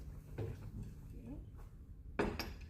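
Spoons and utensils clink briefly among kitchen dishes while a curry spice mix of chili, turmeric and roasted cumin powder is prepared, a couple of sharp metallic taps against a quiet room background.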